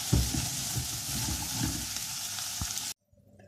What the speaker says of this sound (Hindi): अब मैं इसको फ्राई करके और इसको निकाल लूँगी।